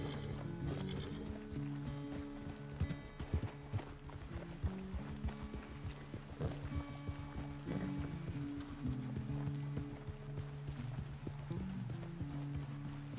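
Hooves clip-clop in a fast, steady galloping rhythm from a horse in Red Dead Redemption 2, close and continuous over game ambience and occasional mechanical rattles.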